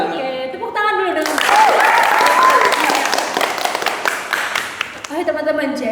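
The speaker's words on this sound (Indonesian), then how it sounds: "Oke, tepuk tangan dulu dong." A group of students in a counseling session claps together, the clapping swelling into a brief burst of applause with a whoop on top, then fading as music resumes.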